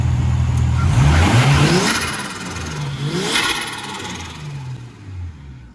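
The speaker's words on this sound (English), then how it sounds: "Turbo noises." A turbocharged 1993 Nissan Skyline GTS-T engine revs hard twice with a rising turbo whine, then settles back toward idle, loud and close, with no voices.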